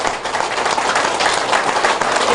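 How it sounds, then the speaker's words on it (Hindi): Audience applause at a Nuga Best center testimony event, a dense steady wash of many hands clapping, loud and continuous without a break. "ताली बजाइए इसी बात पर आप लोग।"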